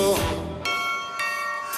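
A doorbell chime sounds twice near the start of a Greek comedic song, two bright ringing tones with lingering harmonic decay, heard fairly close and clear over a quiet background.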